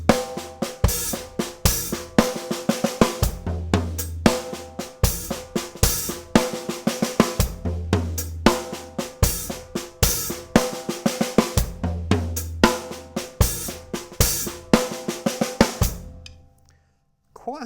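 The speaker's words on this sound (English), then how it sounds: "Another little idea is you can play the 6-stroke roll" Six-stroke rolls played on a snare drum within a crossover drum beat with kick and cymbals, loud and steady with rapid stroke clusters repeating through most of the passage before a brief quiet ending.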